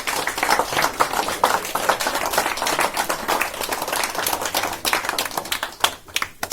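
An audience at the inauguration of a hall claps steadily and densely for several seconds, with no voices over the applause.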